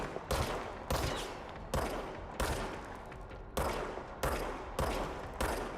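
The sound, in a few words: service weapon gunfire in Control video game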